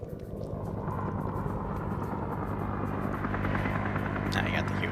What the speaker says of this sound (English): Now you got the Huey coming in.